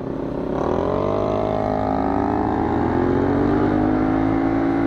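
A GPR motorcycle accelerating hard on a night ride, its engine note climbing steadily from a low rumble into a loud, sustained rising whine, close and continuous.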